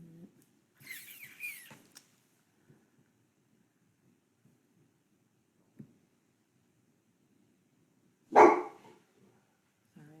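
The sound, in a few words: dog barking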